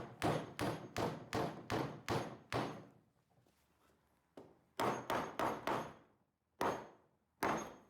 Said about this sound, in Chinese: 我用锤子一点一点的把这个木头塞子把它打进这个孔里面